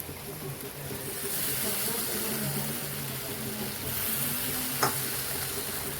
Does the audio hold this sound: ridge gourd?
yes